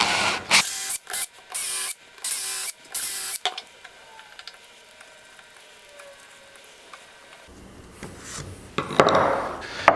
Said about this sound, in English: to make sure that this runner will never come off, I am going to add 4 screws to it.